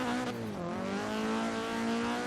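A Vauxhall Corsa track build revs hard toward a redline near 7,500 rpm in Forza Horizon 3, a steady, loud engine drone with rising harmonics that holds for about two seconds without any talk.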